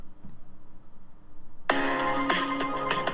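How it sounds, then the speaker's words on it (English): Phone hold music on a UniFi Talk call, starting abruptly after a moment of near silence and then playing steadily with a bright, layered tone. "so there's the hold music"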